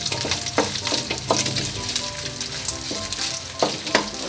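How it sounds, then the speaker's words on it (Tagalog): Rice noodles fry in hot oil in a pan for Filipino pancit bihon guisado, a dense close crackle with sharp oil pops and spatters recurring throughout. "para mag-iwasan natin na tumilansik siya, kailangan may shield lang tayong konti habang pinipilito siya"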